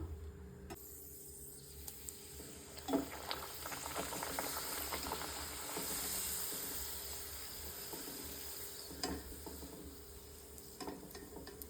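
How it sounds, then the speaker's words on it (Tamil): Puris deep-frying in hot groundnut oil in a kadai: a faint, steady sizzle and bubbling with scattered soft crackles and a few clicks, close and without speech. "இப்போ பூரி சுட்டு எடுத்துடலாம்."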